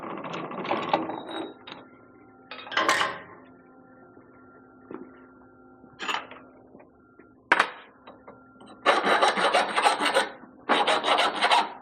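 Burrs are filed by hand off the cut end of a heavy-duty offroad driveshaft tube, giving several bursts of rasping metal strokes, some short and some longer, separated by quiet pauses and light clinks, up close.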